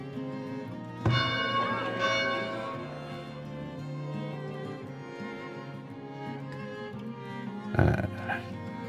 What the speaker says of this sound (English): And we're going to have to ring the bell.